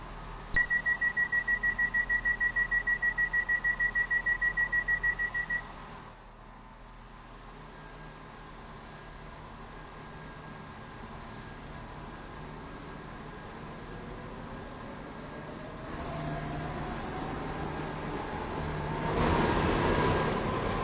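Train running in the Roblox game Stepford County Railway: a steady rhythmic electronic beeping for several seconds over a low rolling rumble, then a continuous interior drone with a slowly rising motor whine, ending in a burst of louder hiss.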